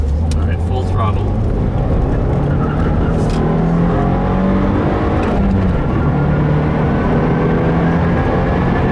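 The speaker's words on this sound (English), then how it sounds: "That was full throttle, even in the turns." A 2015 Subaru WRX runs at full throttle on a track, its engine droning loudly and climbing through the gears, with some road and wind noise throughout.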